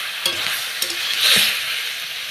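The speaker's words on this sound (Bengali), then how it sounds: "তো চলো ঢাকনটা এই যে খুলে দিলাম, একটু নাড়াচাড়া করে নিই" Vegetable curry with potatoes and bori lentil dumplings is stirred in a pan just after the lid comes off. A few scraping strokes sound over a soft, steady sizzle.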